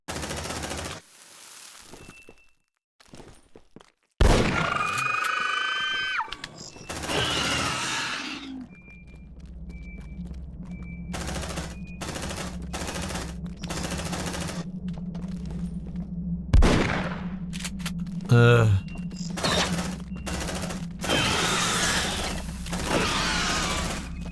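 Gunfire from the video game Aliens: Dark Descent, with repeated bursts of automatic shots and sharp mechanical clicks and whirs, loud and up close over a low background hum.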